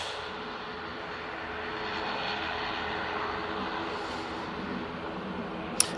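An airliner departs Manchester Airport for Naples, its engines a faint, steady distant rumble that swells slightly midway and then holds, with a brief sharp click at the very end.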